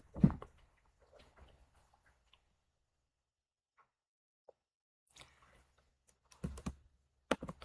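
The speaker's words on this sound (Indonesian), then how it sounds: "Kita di sini ketikkan terminal." Keys on a computer keyboard are tapped at a terminal on a Debian desktop, in short sparse bursts of quiet clicks separated by long silent gaps, with a quick flurry of keystrokes near the end.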